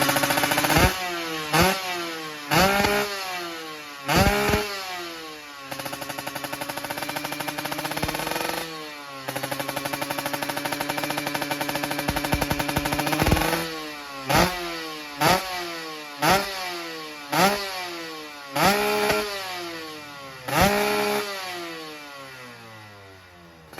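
A two-stroke Kawasaki Ninja with a Super Cobra aftermarket exhaust revs again and again, each sharp rise and fall crackling loud and close, with a longer sustained high rev in the middle.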